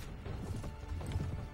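A cavalry horse gallops in Mount & Blade: Warband with the Prophesy of Pendor mod, its hooves a quiet, rapid clip-clop with scattered battle clatter and no talk.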